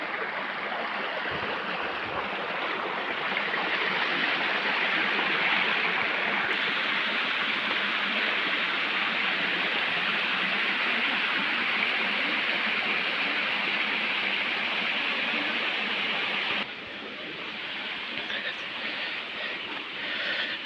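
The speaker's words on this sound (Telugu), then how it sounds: "ఇది వాటర్ ఫాల్కి పై భాగం." A constant rush of water from the top section of Vastapur waterfall fills the scene, loud and unbroken, dipping slightly in level near the end, with no talking.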